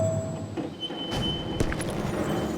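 A train in the Wild West shooter Call of Juarez: Gunslinger rumbles and clatters steadily, with a couple of sharp metallic clanks cutting through the continuous rolling noise.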